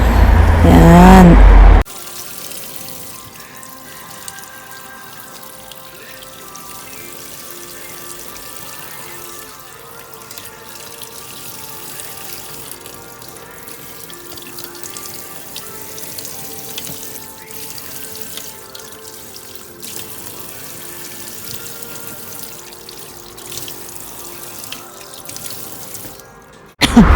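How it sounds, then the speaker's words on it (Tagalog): Shrimp rinsed under a running kitchen tap give a soft, continuous trickle and splash of water with scattered drips, heard close and fairly quiet after a short louder burst at the start. "hugasan natin para matanggal yung lansa"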